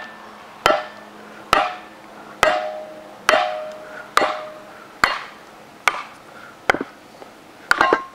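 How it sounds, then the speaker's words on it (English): A hammer drives firewood down onto a Kindling Cracker wedge to split kindling, giving about ten sharp, ringing metallic strikes at a steady pace, each ending in a brief ring, close and loud with no talking. "you can use a hammer or the end of an axe"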